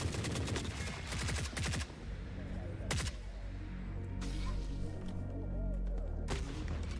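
Gunfire in the video game Forever Winter crackles in rapid bursts at the start, followed by separate loud single cracks and another burst near the end, close and harsh over background game noise.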